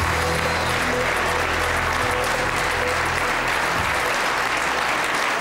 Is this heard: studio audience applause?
yes